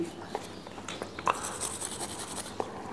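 A small brush scrubbing an AR-15 rifle bolt during cleaning, giving soft, close, irregular bristly scraping strokes with a few sharper clicks, fairly quiet with no talking.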